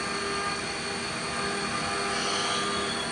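The spindle of a Mazatrol T32-B CNC lathe runs with a steady, even mechanical hum and whine of moderate loudness, unbroken throughout with no voices.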